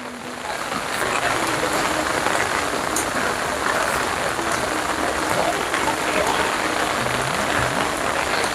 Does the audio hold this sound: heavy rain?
yes